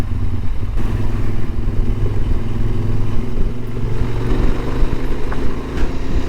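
Motorcycle engine running steadily at close range on the way onto Île Madame in Charente-Maritime, a tidal island reached at low tide, with a continuous mid-pitched drone and some clatter throughout.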